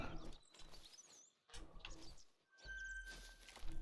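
Chirps and calls of birds at feeding grounds in a hunting video game, scattered short tweets over soft ambient bursts and faint movement, quiet and intermittent with pauses between.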